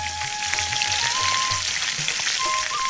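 Pieces of catla fish frying in oil at a farmhouse kitchen, a dense continuous crackling sizzle, loud and close, steady throughout with no talk.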